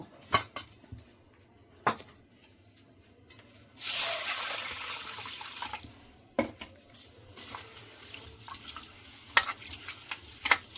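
Kalai dal lentils being washed in water in a metal vessel, with scattered clinks and taps and a couple of seconds of loud splashing and rinsing, close and without talk.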